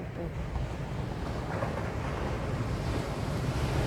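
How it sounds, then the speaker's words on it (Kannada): Ocean waves wash onto a beach in a continuous broad roar, mixed with wind buffeting the microphone, steady and moderately loud with no clear breaks. "ಅಲೆಗಳು ನೋಡಂಟಿ"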